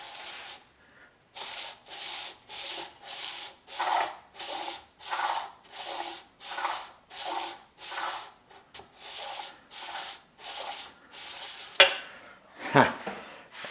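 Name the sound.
sanding crankcase surface with 320 grit sandpaper on block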